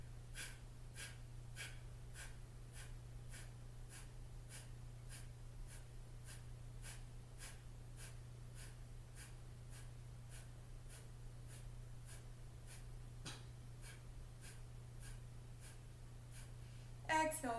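Sharp, rhythmic breath pumps repeat at a steady pace of about one per half second through a breathing meditation, each exhalation a short forceful burst over a constant low hum, with a slightly louder burst near the end.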